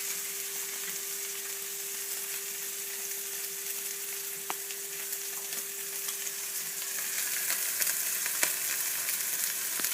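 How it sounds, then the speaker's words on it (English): Steak searing in a hot pan gives a steady, loud sizzle and crackle throughout with no talking, growing slightly more intense toward the end. "And we're going to let it sear up for a minute."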